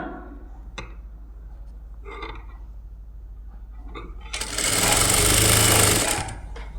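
A sewing machine stitching a blouse joint: a few light clicks and taps first, then a loud, steady burst of rapid mechanical whirring for about two seconds that fades out, up close with no voices.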